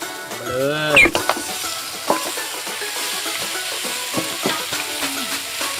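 Pork ribs dropped into a hot pan for a Thai mustard green curry, a sharp sizzle followed by steady frying crackle and stirring scrapes, with a voice talking over it.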